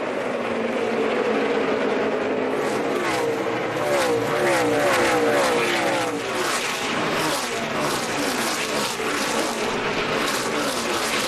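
NASCAR Nationwide Series stock cars race at Bristol in 2014, a dense continuous roar of engines with passing cars sweeping by under crowd and track ambience, loud and sustained throughout.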